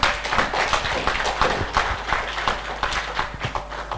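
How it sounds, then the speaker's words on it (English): An audience at a literature conference applauds a minister, a loud, uneven crowd clapping with distinct individual claps standing out, heard close in a hall. "I request that we give her an applause"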